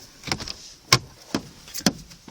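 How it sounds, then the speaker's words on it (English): Car door latches and handles clunking as people climb out of a parked car in a storm-damaged forest lot, several separate sharp knocks with short rustles between them, fairly close. "Okay, now we're getting out of the car."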